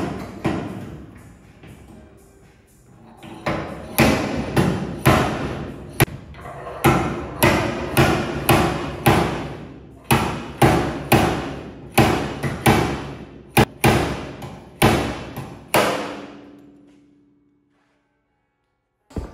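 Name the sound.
slide hammer pulling truck door panel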